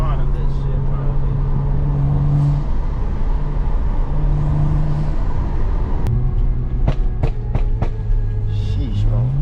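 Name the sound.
BMW E36 328i engine running, turbo-like spooling sound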